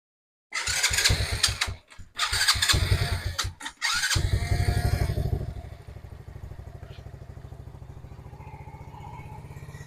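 A modified Rusi Wavestyle motorcycle is tested with its starter: a few bursts of loud starter cranking with short gaps, then the engine catches and settles into a steady, quieter idle putter nearby.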